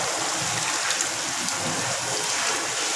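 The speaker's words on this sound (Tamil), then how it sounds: "இப்போ நான் புளி தண்ணியை ஊற்றுறேன்." Tamarind water poured into a pan of stingray fish curry makes a steady, close, hissing splash that runs evenly from start to finish.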